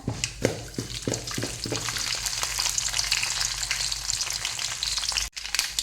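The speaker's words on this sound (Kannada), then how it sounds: "ಉದ್ದಿನ ಕಡಲೆ ಬೇಳೆ ಫ್ರೈ ಆಯಿತು" Urad dal and chana dal fry in hot oil for vangibath, crackling and sizzling loudly and steadily, with a few stirring knocks early on and a brief cut near the end.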